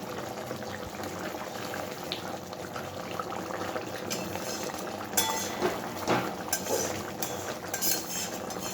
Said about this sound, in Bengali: দেখুন বন্ধুরা মাছের ঝালটা খুব ভালোভাবে ফুটে উঠেছে